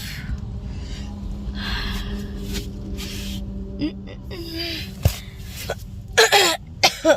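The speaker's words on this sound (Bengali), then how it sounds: "কাশি হচ্ছে প্রচণ্ড পরিমাণে" A few short coughs and throat-clearing sounds close by inside a car, scattered over a low rumbling background, growing sharper toward the end.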